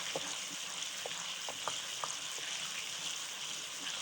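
Chopped tomatoes fry in a pan over browned garlic for a village-style gawara curry, giving a steady close sizzle with a few light stirring clicks scattered throughout.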